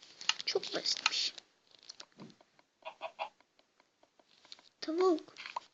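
Short, clipped chicken clucks from Minecraft sound in a few quick bursts in the middle, framed by a voice talking before and after.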